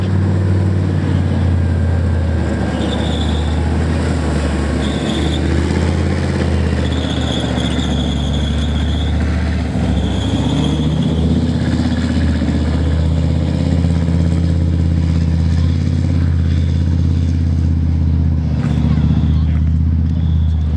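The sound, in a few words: tank MTU diesel engine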